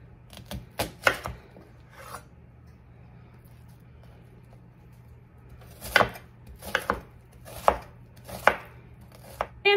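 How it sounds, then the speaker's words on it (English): A knife dices half a yellow onion on a cutting board, with a few quick chops early, a pause, then a run of sharp, close knocks toward the end. "I'm gonna be using half of a yellow onion. I'm gonna get that diced up."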